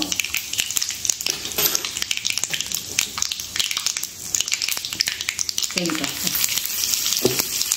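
Cumin and asafoetida hit hot oil in a pan and crackle with dense, close sizzling and popping, with stirring scrapes and a brief burst of louder frying toward the end.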